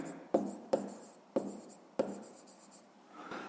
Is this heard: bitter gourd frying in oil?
no